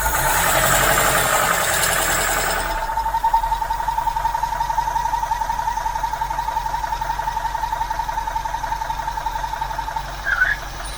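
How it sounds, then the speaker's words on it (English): An engine idles with its vacuum line blocked, giving a thin steady whistle over a rhythmic idle after a louder rushing noise at the start. "when you block that up, you get a funny little noise from the engine, like a little whistle sound"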